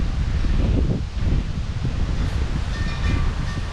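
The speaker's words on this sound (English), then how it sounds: "Could you not be windy for a second?" Loud, gusty wind buffeting the microphone, with heavy low rumbling bursts that rise and fall throughout and no speech.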